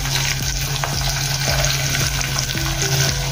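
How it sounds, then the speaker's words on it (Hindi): Finely chopped onion added to peanuts frying in oil in a pan, a loud, steady sizzle close by with scattered scraping and stirring knocks throughout. "अभी इसमें हम प्याज डालेंगे बारीक कटा हुआ,"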